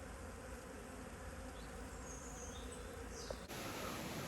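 Honeybees buzz around a hive in light rain under tree canopy, a dense, steady hum heard close and continuous, with a brief rustle near the end.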